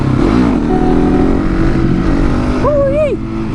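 A motorcycle engine runs steadily and close, with a sharp rising-and-falling rev swell near the end as the bike pulls a wheelie on a public road.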